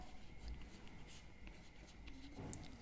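Pen scratching across paper while writing out a class 7 maths solution on triangle area, faint and close with soft irregular strokes.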